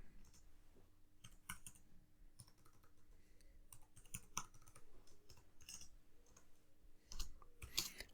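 Typing on a computer keyboard, faint and close, a continuous patter of irregular key clicks with occasional heavier taps, no voices.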